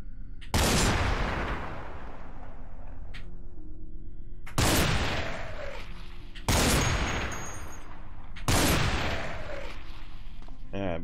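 Shotgun gunfire in the video game Cataclysm DDA: four loud, sharp blasts spaced a couple of seconds apart, each followed by a long ringing decay.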